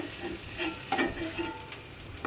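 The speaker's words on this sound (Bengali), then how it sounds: "ডিমটা তো ভাজা হচ্ছে" Eggs and potatoes frying in oil in a kadai make a low continuous sizzle, with a few soft scrapes and clinks from stirring.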